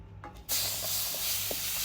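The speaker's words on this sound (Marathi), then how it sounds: "आता ह्यामध्ये आपण हा आपला आंब्याचा गर ऍड करणार आहोत." Thick mango pulp poured into red-roasted semolina in a hot pan, setting off a sudden loud broadband sizzle that starts abruptly and keeps hissing steadily, with small spattering pops, and no talk.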